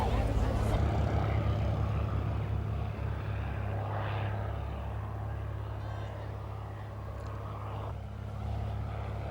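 A steady propeller aircraft drone hums continuously over St Ives, Cornwall, in 1991, fairly loud and close, with a faint voice murmuring underneath.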